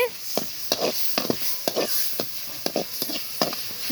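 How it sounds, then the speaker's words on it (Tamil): Spiced masala with curd sautéing in a pan for beef gravy, a steady soft sizzle broken by repeated scraping strokes of a spatula at an uneven rhythm, close and moderately loud. "இந்த மசாலா நல்லா வதக்கிக்கலாம் தயிர் சேர்த்துக்கிறோம் செம்மையாக வதங்கிக்கிட்டு இருக்கு"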